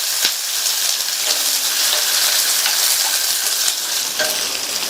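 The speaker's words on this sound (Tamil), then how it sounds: "அடுத்து இது கூட 2 சின்ன சைஸ் பெரிய வெங்காயத்தை கட் பண்ணி சேர்த்துட்டு வதக்கிக்கலாம்" Onions sautéing with ginger and garlic in a hot pan for a vegetable gravy give a steady, close sizzle, broken by occasional soft scrapes and clicks from stirring, with no talk.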